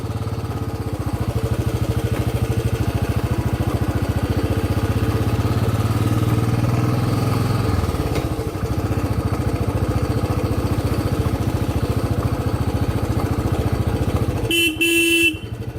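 A Bullet motorcycle rides along a forest road near Bhalkimachan in the evening. The engine gives a steady, loud, close thump and drone for the whole stretch, and a horn honks briefly near the end.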